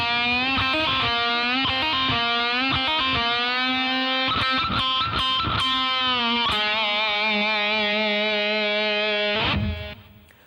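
A distorted electric guitar plays a riff, striking a string bend several times with choppy picked chugs, then holding a sustained bent note that rings out loud and alone before fading.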